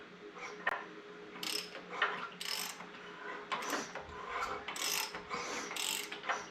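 A Briggs & Stratton 18 hp twin engine turned over slowly by hand after reassembly, giving close ratcheting, clicking and scraping mechanical noises in uneven bursts, moderately quiet and without speech.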